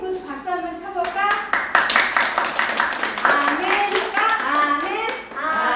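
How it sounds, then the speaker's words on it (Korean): Young children clapping during a kindergarten worship service, rhythmic group hand claps mixed with children's chatter and singing-like voices, close and lively throughout. "그렇게 되겠다고 하는 친구 박수 한번 쳐볼까?"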